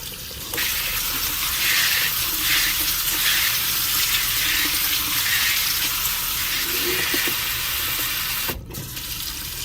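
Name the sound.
washing strawberries under running tap water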